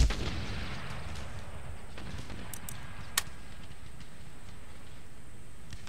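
Distant volleys of musket and cannon fire rumble through an Empire: Total War battle, a steady low roar with a few sharp, brief cracks standing out above it.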